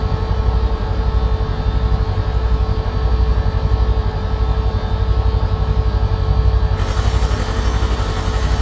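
Steady, loud rotor and engine drone of a helicopter in Microsoft Flight Simulator 2024, a continuous thrumming hum that holds without pause throughout.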